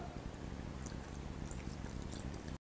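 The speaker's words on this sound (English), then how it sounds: "in which add water" Water pours steadily onto washed urad dal and idli rava in a bowl, a close, continuous splashing rush that stops abruptly at the end.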